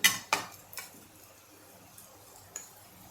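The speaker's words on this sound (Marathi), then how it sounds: "प्लेट घेतोय थालीपीठासाठी" A plate is picked up and set down while making sabudana, sweet potato and potato thalipeeth, giving a few sharp, close clinks at the start, then a quieter knock and a faint tap in an otherwise quiet kitchen.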